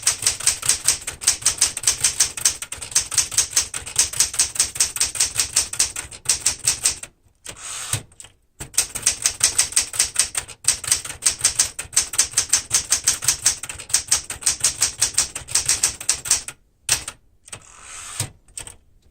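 Rapid, steady keystrokes clatter on a 1973 Smith-Corona Galaxie Twelve manual typewriter, close and crisp, broken by a few short pauses and carriage-return thumps.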